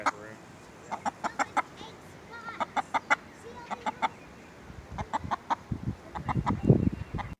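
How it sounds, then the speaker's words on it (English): A chicken clucks in quick bursts while being chased around outdoors at a community crawfish boil, with voices murmuring and some low rumbling and scuffling rising toward the end. "She's chasing a chicken around."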